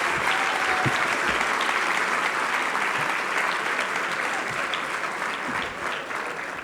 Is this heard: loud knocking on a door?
no